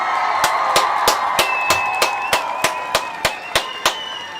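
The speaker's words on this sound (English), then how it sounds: "We want to give all the Ujamaa babies a round of applause." Crowd at a toast gathering clapping in a steady, evenly spaced rhythm, with about a dozen sharp claps ringing out over a sustained background hum; no voices are heard.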